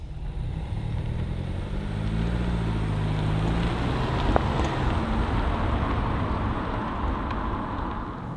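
All-new Audi A3 Sportback with a 1.5-litre TSI 150-horsepower engine on the move, a steady low engine hum and road rumble heard from inside the cabin, continuous and fairly even throughout.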